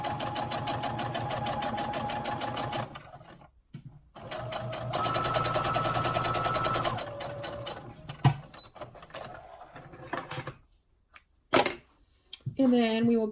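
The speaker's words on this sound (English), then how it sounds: "So we'll baste these lining cut pieces." Sewing machine basting lining pieces for a sewing project, running in steady bursts with short pauses between seams and a few clicks, quiet and close.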